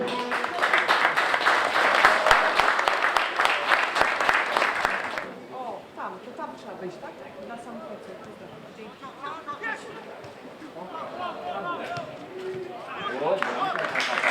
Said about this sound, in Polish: Duże brawa dla obu zespołów.